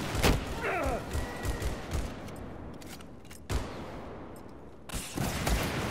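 Zuni rockets and gunfire in Battlefield 4 during a coastal battle: several loud, sharp bursts and booms spaced apart, with a quieter rumbling stretch between them.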